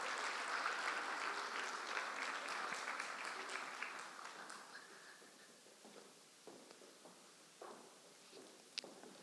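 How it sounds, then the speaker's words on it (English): At a business summit panel, the audience gives a loud round of applause that gradually thins over several seconds into a few scattered, isolated claps and faint room noise. "For all these great women, I think another round of applause is in order."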